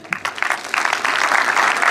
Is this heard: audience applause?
yes